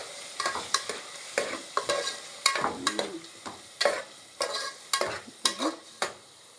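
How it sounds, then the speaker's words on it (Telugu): Coriander and mint fry in oil as a spoon scrapes the pan in regular strokes about every half second, each stroke a sharp clattering scrape over a soft, continuous sizzle, close and fairly quiet, with no voices. "ఇది ఆయిల్ మంచిగా తేలే వరకు వేగాలి"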